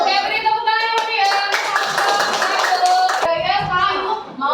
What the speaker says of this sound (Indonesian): Oke, beri tepuk tangan buat dia